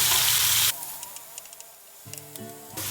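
Tomato pieces dropped into hot tempering oil with cumin and green chillies, a loud sharp sizzle that quickly drops to softer crackling, then flares again as the pan is stirred.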